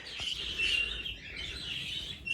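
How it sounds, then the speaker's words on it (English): Birds chirp and twitter continuously in a busy, high chorus, fairly loud and close, with no voices. "I'm going to get back inside because those birds are noisy"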